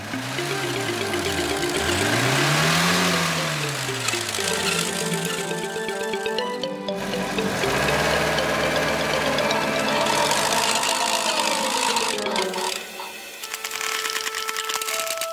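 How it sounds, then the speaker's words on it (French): Heavy engines of a crane truck and bulldozer in a cartoon rumble and knock steadily, with whining mechanical tones rising and falling and occasional clanks, loud and close. "Le camion grue et le bulldozer se dépêchent d'aller aider le camion Ben."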